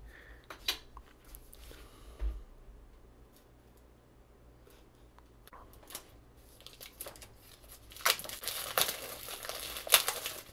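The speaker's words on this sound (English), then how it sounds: "let's go ahead and unwrap this first" Plastic packaging on an iFi Audio iDSD Signature headphone amp/DAC box is cut and unwrapped, with sparse clicks and light handling, then a burst of loud close crinkling near the end, no voices.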